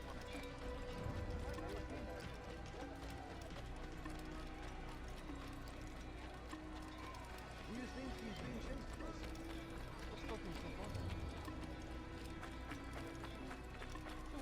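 Horse galloping in the Assassin's Creed video game, a steady clip-clop of hooves running under game music and ambient noise, close and continuous throughout.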